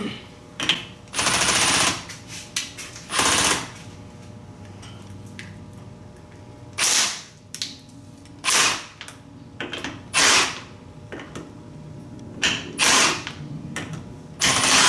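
A ratchet spins back the ring gear bolts on a Dana 35 axle during a gear swap, giving bursts of rapid clicking with short pauses between them over a low background hum, close up.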